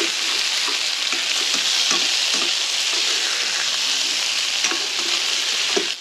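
Eggs fry in butter in a frying pan, a loud, continuous sizzle dotted with sharp pops and crackles close by, with no talking.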